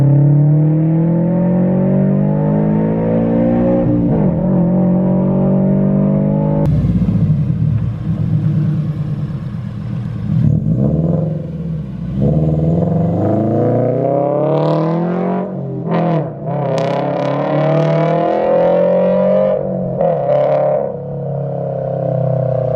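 A Toyota GT86 sports car with a muffler delete: loud, deep exhaust rumbles at idle, then revs up sharply several times with throaty roars and crackling between blips.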